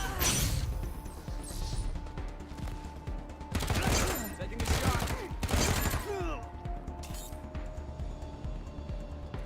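Gunfire in the Wasteland 3 video game, including sniper shots, comes in several loud, crashing bursts spread across the clip, with quieter stretches of game ambience between them.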